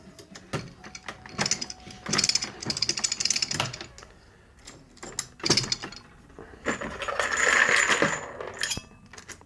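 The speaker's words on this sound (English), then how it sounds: "this is one of those type of presses you have to press forward in order to engage the primer" An RCBS Pro Chucker 7 progressive reloading press works through 10mm brass cases, with a series of metallic clacks, sliding scrapes and rattling mechanical strokes in irregular bursts, close by, with no speech.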